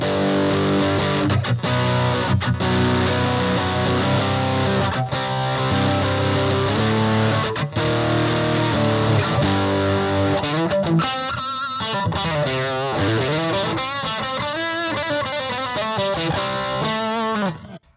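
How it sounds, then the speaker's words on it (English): Electric guitar through a ProCo RAT distortion pedal into a clean amp with light delay and reverb, played on a Telecaster neck pickup: thick, saturated chords ring out, then a wavering bending lead line before fading at the end. "Just a classic distortion sound on the neck pickup."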